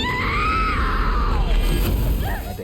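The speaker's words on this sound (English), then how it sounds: "Hinako let out a loud scream" Hinako, a schoolgirl in the horror game Silent Hill f, lets out a long, loud, wavering scream that rises then trails downward over a dense, droning background, ending in a short strained cry.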